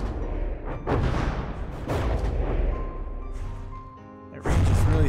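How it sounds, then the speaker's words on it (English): Ship cannons firing in the game From the Depths, a dense barrage of booming shots and crashing impacts layered over continuous rumble, loud and close with brief lulls. "That range is really throwing off my cannons."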